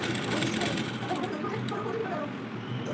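Sewing machine with a single foot stitching piping from a cross piece around the neck of a princess-cut blouse, a continuous close mechanical whir under a busy, noisy background.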